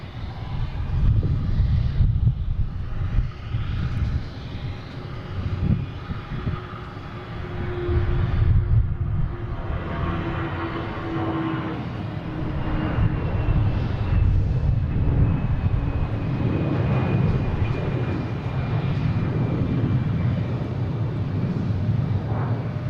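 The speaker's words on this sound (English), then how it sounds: "Next taking off is Delta heading to Dallas-Fort Worth, flight 2305" A Delta Airbus A319 jet takes off at Boston Logan, a rumbling engine roar at a distance with gusts of wind buffeting the microphone and a faint tonal whine through the climb.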